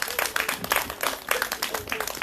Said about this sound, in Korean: 우리 김충환 위원장님께 다시 한 번 더 큰 박수 부탁드리겠습니다.